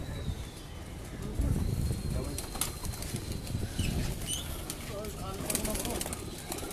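Pigeons of golden and commando breeds, kept on a rooftop, coo softly and flap their wings in short bursts at moderate distance, with other birds chirping and people talking faintly in the background.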